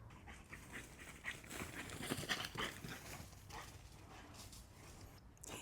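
A dog pants close by in quick, rhythmic breaths that swell louder midway and then ease off, with soft shuffling in a garden.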